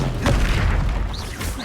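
Incendio fire spell cast in Hogwarts Legacy erupts as a loud, close burst of flame with a deep booming thump and rushing roar, trailing off into fizzing sparks.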